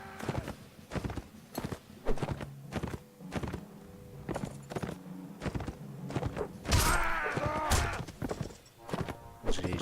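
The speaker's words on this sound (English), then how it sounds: "Your horse slows down when you go uphill." Horse hooves in the Mount and Blade Warband video game, a steady rhythmic clip-clop of a ridden horse moving at pace, close, with a heavier impact and crash of combat partway through.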